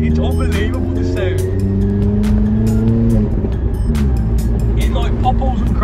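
A Vauxhall Corsa with a Cobra sports exhaust and back box delete revs loudly and close, its engine drone broken by a rapid series of sharp pops and crackles.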